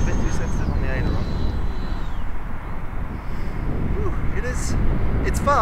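FMS Avanti V3 70mm electric ducted-fan model jet flying from a grass field. A steady, rushing whine fills the air continuously, with a faint higher tone sweeping down early on, and a person talks over it.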